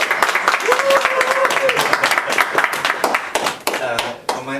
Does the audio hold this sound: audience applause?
yes